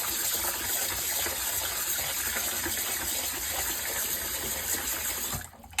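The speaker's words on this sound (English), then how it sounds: "So, throw some cold water around." Cold water gushing from a tap around a bowl while rinsing eggs, a steady, close, continuous pour that cuts off abruptly at the end.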